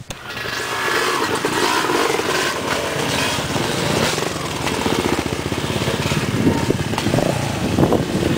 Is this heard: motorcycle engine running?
yes